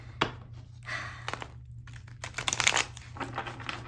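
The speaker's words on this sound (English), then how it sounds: "you can just kind of focus on the cards as I'm shuffling" Mystical Forest Tarot cards are shuffled by hand in a quiet room, giving soft, quick riffling and papery crinkling bursts that come in short clusters with brief pauses, close and fairly faint.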